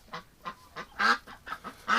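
Hospital ducks kept at a home duck shelter give a run of about seven loud, nasal honking quacks at uneven intervals, close by with no talking.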